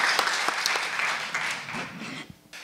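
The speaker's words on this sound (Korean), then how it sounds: "패널 참석을 해주신 이 세 분께 박수 좀 부탁드리겠습니다" Audience applause at the close of a data science panel discussion, thanking three panelists; steady dense clapping that tapers and fades out near the end.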